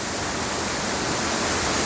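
A waterfall on a slippery Tasmanian hillside rushes in a loud, constant roar of white water close by, with no voices.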